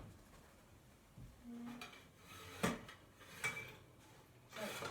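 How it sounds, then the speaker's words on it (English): A kitchen oven rack is pulled out to check bread baking in a round Dutch oven, with faint metallic clanks and scrapes and a couple of sharper knocks in a quiet room. "I'll just get the rack out."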